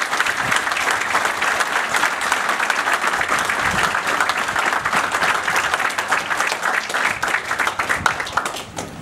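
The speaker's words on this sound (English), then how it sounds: "Please join me in a round of applause for our Chief of Staff, Colonel Kevin Capra." An audience at a military retreat ceremony applauds: dense, steady clapping from many hands that holds at a constant loud level for the whole span and tapers slightly at the end.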